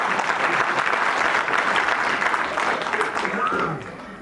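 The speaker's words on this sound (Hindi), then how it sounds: "अब बजाइए दोनों मिलकर ताली" An audience claps together at a family-themed talk, a dense, steady wash of applause close by that keeps up throughout and tapers slightly near the end.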